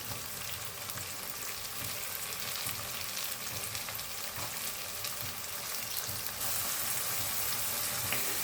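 Onions fry in a pan with salt and green chili, a continuous close sizzle with faint stirring clicks, loud and steady with no one speaking.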